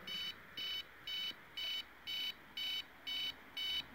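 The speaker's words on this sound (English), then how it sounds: "If I set it to audio, we hear the alarm clock sound." Audio alarm of a CDV-718 (AN/VDR-2) radiation meter, a steady run of eight evenly spaced electronic beeps about half a second apart, clear and close against a quiet background.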